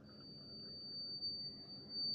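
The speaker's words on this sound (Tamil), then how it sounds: "அலாரம் அடிக்குது." A homemade water-level alarm sounds a steady, thin electronic tone. It holds unbroken for the whole moment, faint against a low background hum, and no one speaks.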